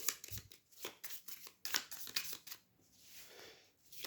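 Cards from the board game Welcome to the Moon being shuffled and riffled by hand, a few quiet, close bursts of flicking and sliding paper with no talking.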